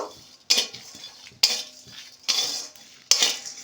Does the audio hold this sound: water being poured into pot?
no